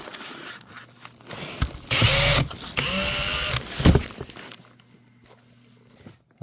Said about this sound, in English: I'm using a drill because I don't want carpal tunnel anymore.